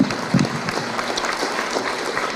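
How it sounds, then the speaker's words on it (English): An audience applauds the Lieutenant Governor at a Stratford, Connecticut veterans event, a steady wash of clapping from a crowd heard close and fairly loud for a couple of seconds. "could we give her a round of applause?"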